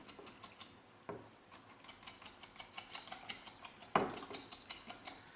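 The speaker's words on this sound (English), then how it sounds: "And give this a good whisk around." A whisk beats chocolate fondant batter in a bowl, giving a quiet, fast, even run of light ticking clicks with a couple of sharper knocks, and no talking.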